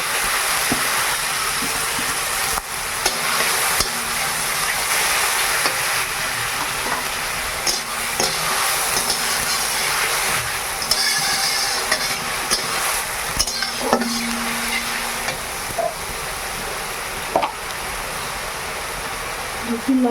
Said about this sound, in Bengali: ভালো করে এবার আমি পেঁয়াজটা ভেজে নেই।